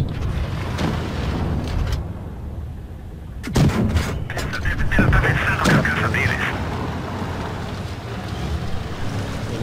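Heavy tank cannon shots in World of Tanks gameplay, with several loud booming blasts around the middle. They ring out over a constant low engine and wind rumble, and a voice talks faintly in the background.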